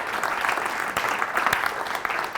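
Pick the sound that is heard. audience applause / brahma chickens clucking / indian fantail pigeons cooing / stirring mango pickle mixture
audience applause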